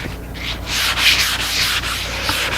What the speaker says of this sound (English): I'm just touch sanding it.